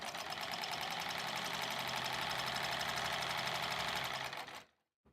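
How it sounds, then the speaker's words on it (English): A sewing machine stitching rows of a quilt-as-you-go quilt, running in a steady, fast mechanical whir for several seconds before stopping abruptly, close and alone. "That sewing actually didn't take very long."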